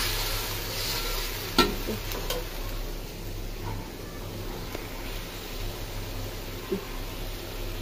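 Fish curry cooks on a stove as spices go in, giving a steady low sizzle and bubbling with faint stirring scrapes and an occasional sharp clink over a constant background hum.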